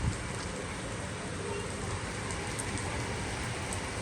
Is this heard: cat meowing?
no